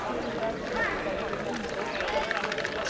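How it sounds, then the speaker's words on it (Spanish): Bulls of a town bull run during the San Miguel fiestas in Cadreita gallop past on the street in a quick, muffled patter of hoofbeats, heard under a voice and crowd murmur. "Se oyen las pisadas."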